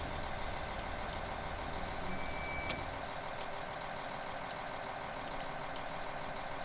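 Brake release on a Siemens Desiro BR 642 diesel multiple unit in Train Simulator 2020: a steady engine rumble with a brief hiss and a short whistle-like tone midway, then quieter continuous cab noise.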